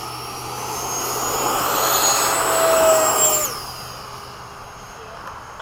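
A small airplane engine swells to a loud, steady roar on the takeoff run, then fades to a lower drone after climbing away, heard from inside the aircraft.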